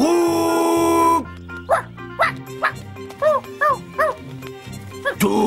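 A small cartoon dog from Benjamin l'éléphant gives a string of short, high yips and barks in quick succession after a long sustained tone, with music underneath.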